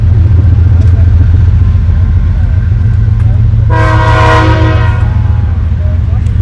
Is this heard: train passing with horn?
yes